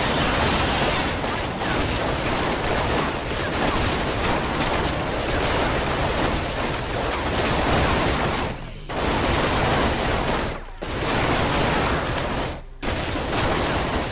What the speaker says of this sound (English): We're shooting the wrong people.